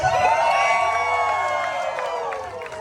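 A crowd at the 2022 United States Air Force Thunderbirds team introduction cheers and whoops at close range, a brief swell of excited shouts that slowly tapers off.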